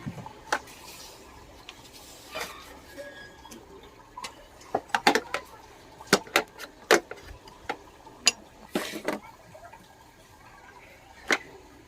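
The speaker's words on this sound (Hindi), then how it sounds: "अब हम क्लच लीवर को निकाल देंगे।" Small metallic clicks and taps ring out irregularly, close and fairly faint, while a clutch lever is unbolted and pulled off a Bajaj Discover motorcycle, with no talking.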